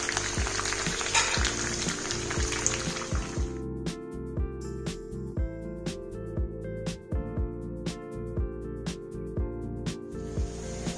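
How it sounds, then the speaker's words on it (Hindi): Chicken malai seekh kebabs fry on high flame with a loud, steady sizzle and hiss of oil, dense and continuous throughout, with a few brief utensil clinks and scrapes mixed in. "फ्लेम को हाई कर लेंगे और दोनों तरफ से ब्राउन करके इसको बाहर निकाल लेंगे"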